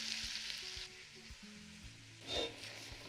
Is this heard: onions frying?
yes